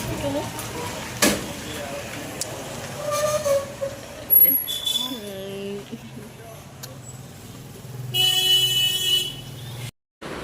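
Congested street traffic in Alipurduar, with several car horns honking at different pitches over a steady engine rumble. A long, loud blast near the end rises above the mix, and people talk nearby throughout.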